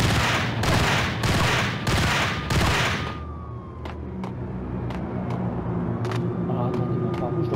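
Pump-action shotgun fire in Max Payne during a rooftop chase: four loud, evenly spaced blasts in quick succession, then quieter game ambience with faint clicks and a distant siren-like tone.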